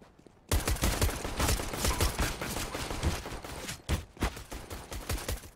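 Rapid sustained gunfire in Counter-Strike: Global Offensive, a dense loud burst of automatic shots running almost continuously after a brief quiet start, with a short gap near the end before firing resumes.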